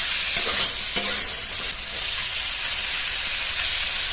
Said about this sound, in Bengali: এবার এর মধ্যে ধুয়ে রাখা সিমের দানাগুলো দিয়ে দেবো।